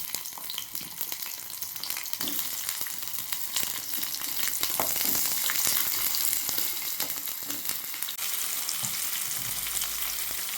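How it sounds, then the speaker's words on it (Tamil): Onions frying in hot oil for a spicy tomato chutney, with a steady, bright sizzle that fills the whole stretch at close range and brief crackles and pops throughout. No one speaks. "எண்ணெய் காஞ்சிடுச்சு, போடு. 2 வெங்காயத்தை போட்டுக்கலாம்."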